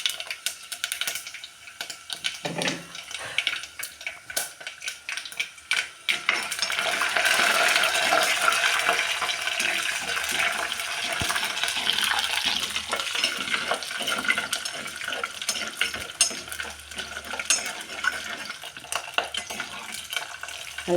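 Dried red chilies, urad dal and chana dal fry in hot oil with a steady crackling sizzle, while a spoon scrapes and clinks against the pan now and then, close and moderately loud.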